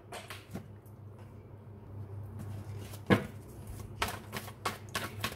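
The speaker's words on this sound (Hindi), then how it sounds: "दो बार कार्ड्स गिर गए हैं" Tarot cards being drawn from a deck and slipping out to fall, heard as soft papery flicks and taps with one sharper slap near the middle and a cluster of light hits toward the end, over a low steady room hum.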